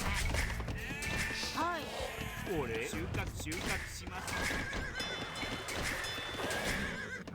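Sheep bleat repeatedly in an Age of Empires II real-time strategy match between Japanese and Celts, mixed with horse whinnies and game effects under continuous talk from a player.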